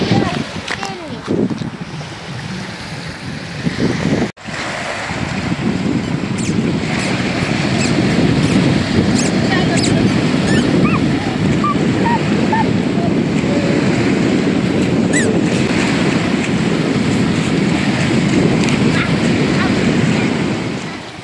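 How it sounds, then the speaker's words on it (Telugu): Waves wash continuously at Saradaga dam near Karimnagar, a loud broad roar of surf with strong wind buffeting the microphone, and voices call out faintly at the start before a brief dropout. "ఇక్కడ కూడా అలలు అయితే చాలా బాగా వస్తున్నాయి అందంగా"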